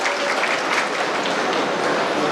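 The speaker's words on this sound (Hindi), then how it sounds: "आपसे एक बार ताली बजाकर उनका स्वागत करता हूँ।" Audience applause welcoming a guest at a post-election victory speech event in Rajnandgaon, a dense, continuous clapping sound at steady loudness throughout.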